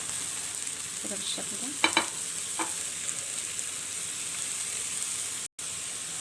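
Chopped onion and spinach fry together in a hot pan for a spinach crepe filling, a steady close sizzle with a few scraping stirs near the start; someone says a few words.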